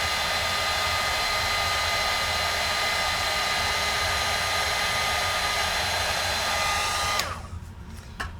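Heat tool melting Tsukineko embossing powder, a loud steady roar of blowing hot air with motor whine for about seven seconds, then switching off abruptly into near quiet.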